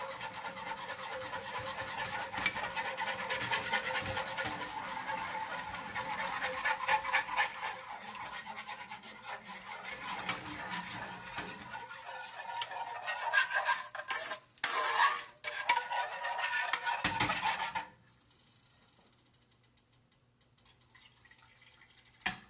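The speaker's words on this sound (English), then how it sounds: "Now I just gotta stir it well to avoid clumps." Warm milk stirred into a mixture to keep it free of clumps, giving a steady scraping, rubbing swirl against the bowl with faint liquid sloshing that runs for a long stretch before stopping abruptly.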